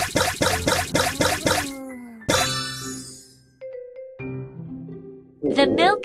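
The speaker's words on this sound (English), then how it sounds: "Shake the bottle to mix it well." Cartoon baby bottle of milk shaken to mix, a quick run of about six rhythmic sloshing rattles, followed by tonal chimes and voices talking.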